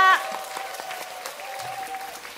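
An audience applauds percussionist Park Gwang-hyun at a constellation-themed star concert, a steady wash of clapping lasting a couple of seconds over a faint sustained tone.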